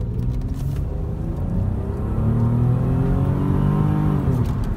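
A Rover 827 from the Rover 800 series accelerates hard away from a red light, its engine note rising in steady sweeps over a loud continuous rumble, heard from inside the car with no talk.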